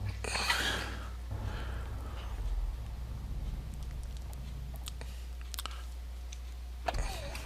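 An aircraft engine spins up in the Prepar3D v5 flight simulator, a steady low droning hum running throughout after a brief rougher burst at the start, with no talking.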